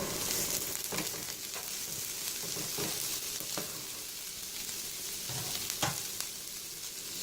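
Capsicum and chili frying with softened onions in a pan, a steady soft sizzle with occasional scraping stirs, quiet and continuous with no talking.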